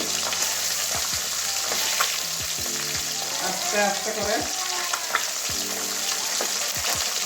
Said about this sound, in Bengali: ট্যাংরা মাছ এই এসব মাছগুলো না ভাজতে গেলে খুব সাবধানে ভাজতে হয়